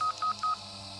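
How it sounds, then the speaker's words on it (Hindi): Three short electronic telephone keypad tones in quick succession, evenly spaced over a faint background hum. "वो सुमित्रा को फोन मिलाने लगी"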